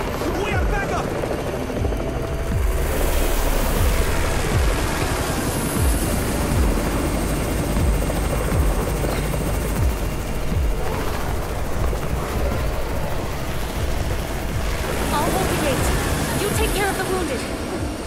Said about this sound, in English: It's the Raven's chopper! We have backup!